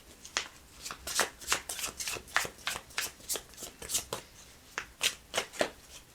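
Tarot cards are shuffled close to the microphone in a steady run of crisp riffling bursts, each a quick papery flutter repeating about every third of a second, with no talking.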